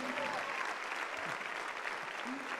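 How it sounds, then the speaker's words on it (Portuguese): A church congregation at a Portuguese-language Easter service applauds with continuous dense clapping, heard faint and distant, with a few voices and cheers mixed in. "Vamos aplaudir esses queridos aqui"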